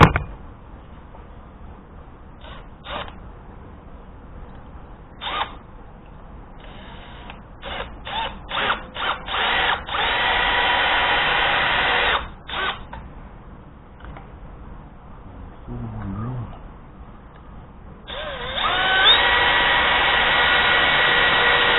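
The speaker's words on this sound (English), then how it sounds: "I'm going to be using a left-handed bit, so hopefully it'll back the bolt out eventually." Power drill fitted with a left-handed bit backing out a bolt on an old Ford truck, starting in short bursts and then running in long steady whirring stretches, close and fairly loud.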